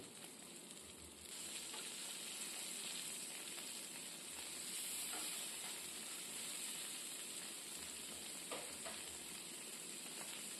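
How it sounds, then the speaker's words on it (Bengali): Pabda fish frying in oil in a pan for a jhol: a steady, fairly quiet sizzle and hiss runs throughout, with occasional soft crackles and spatters and faint low thumps from handling the pan. "মাছটা দুই দিক থেকে ফ্রাই করতে হবে।"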